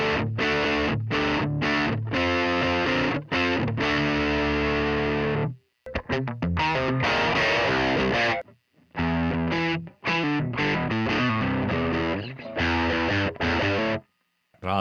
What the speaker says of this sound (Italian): possiamo andare ovviamente ad aumentare il gain o la distorsione